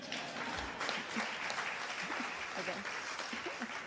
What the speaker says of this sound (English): And that is an applause line.